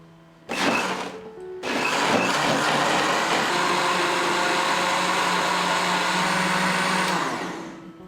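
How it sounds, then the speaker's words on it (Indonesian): Blender whirring as pandan leaves are puréed with water, starting with a brief burst, a short pause, then a loud steady motor roar held for several seconds before winding down. "Lalu blender sampai halus."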